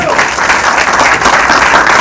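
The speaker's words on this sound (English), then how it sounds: "Let's have another round of applause." Audience applause after a film Q&A for the movie Invasion 1897 at a festival screening: dense, steady clapping from a crowd that fills the room at an even level throughout, with no voices heard over it.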